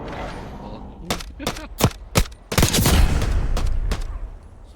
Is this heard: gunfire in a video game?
yes